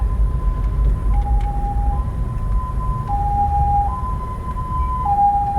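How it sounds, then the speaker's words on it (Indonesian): An ambulance siren wails in a slow two-tone hi-lo pattern somewhere behind, steady and fairly loud over a rumbling road and engine background, with no talk over it. "Ada ambulan di belakang teman-teman ya."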